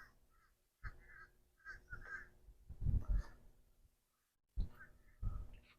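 Birds calling beside a wide river, several harsh crow-like caws in short bursts with gaps between, moderately near over a quiet outdoor background, no talking.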